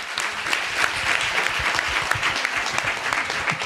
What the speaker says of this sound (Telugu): విశ్వసించే వాళ్ళందరూ ఒకసారి గట్టిగా చప్పట్లు కొట్టండి.